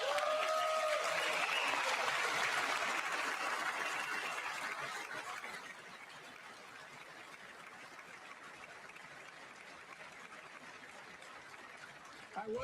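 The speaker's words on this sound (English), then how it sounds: "I wasn't sure if anybody even on this side was going to applaud for that." An audience applauds during a State of the Union address, the clapping loud and dense at first, then thinning and fading into a softer, distant patter.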